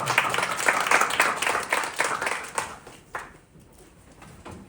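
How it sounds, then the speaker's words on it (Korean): Church congregation claps during a worship service, a lively burst of applause that swells early, then thins into scattered claps and dies away. "하나님 영광과 찬송의 박수 올려드립니다"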